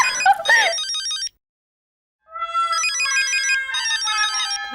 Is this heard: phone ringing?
yes